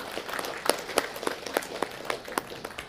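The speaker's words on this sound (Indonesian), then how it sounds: "kita berikan aplaus dulu" Brief, dense applause fills a parliamentary commission meeting, many hands clapping together in a steady patter with no voices on top.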